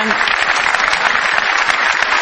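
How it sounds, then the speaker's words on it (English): An auditorium audience at an Apple MacBook Air keynote claps in steady, dense applause throughout, loud and continuous with no break. "I'd like to give him a round of applause."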